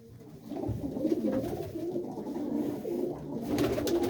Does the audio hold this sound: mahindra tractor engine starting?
no